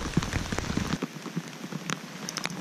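Rain falls steadily on water and surfaces during an outing fishing for bass with a Ned rig, a dense, close patter of drops with no talk.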